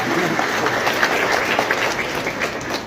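A church gathering's audience claps in a continuous dense burst of applause, fairly loud and close, sustained evenly throughout without speech over it.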